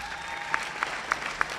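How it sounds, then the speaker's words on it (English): Parents at a fall high school sports awards night are applauded by the student athletes and audience, a light, thin round of clapping with a few sharper individual claps standing out. "Student athletes, give your parents a round of applause."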